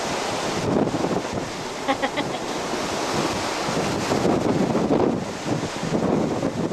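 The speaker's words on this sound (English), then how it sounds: "Windier than the dickens." Strong wind buffets the microphone on the deck of a cruise ship in Alaska, a steady roaring gust with surging waves beneath, loud and continuous throughout.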